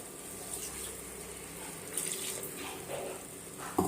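Water from rinsing out a grinder jar pours steadily into a pot of mutton curry, a soft continuous splashing trickle that stays even and fairly quiet, with a small clatter at the end.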